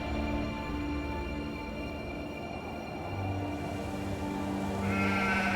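Sheep bleat in drawn-out, wavering cries over a steady background murmur, with a higher bleat rising at the end.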